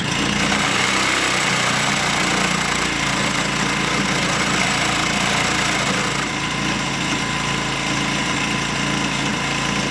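Cheap $300 outboard boat motor running after starting, a loud, buzzing, high-pitched small-engine drone holding steady and close throughout.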